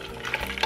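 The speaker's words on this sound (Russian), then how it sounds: "Отправляем перекрученные томаты с чесноком." Minced tomatoes with garlic go into a pot of hot vegetable oil, giving a brief, moderately loud sizzle and stirring noise with no talk.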